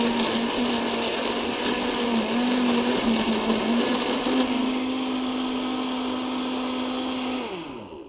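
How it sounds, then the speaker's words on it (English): A countertop blender whirs loudly and steadily as it purees chopped red cabbage with boiling water, a close, constant motor drone that winds down near the end, with no voices. "So carefully pour that into the blender."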